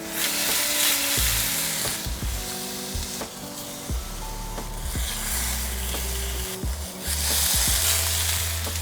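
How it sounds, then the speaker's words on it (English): Steady, crackling sizzle of a garlic-studded beef roast frying in hot olive oil, loud and close, with occasional knocks and clinks of a pan being handled. "The sound of a roast, cooking in olive oil or butter."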